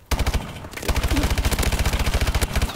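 Rapid automatic weapon fire in Call of Duty: Advanced Warfare during a team deathmatch, a loud, dense burst of evenly spaced shots sustained for nearly three seconds after a brief gap.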